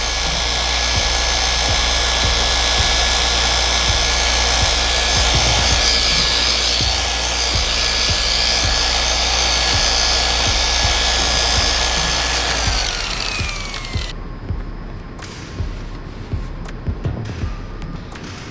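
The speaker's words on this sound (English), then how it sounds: "Now I'm just gonna polish that down a little bit more." A power polisher buffs down a bad paint blend on a car, a loud steady motor whir with a droning tone that winds down near the end, leaving light handling taps.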